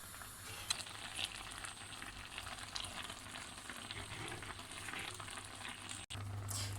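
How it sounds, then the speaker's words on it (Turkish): Orange jam left to boil uncovered in a pot, a steady dense bubbling and sizzling hiss that runs continuously at moderate level with a few small clicks and no talking. "Reçelimizi kaynamaya bırakıyoruz."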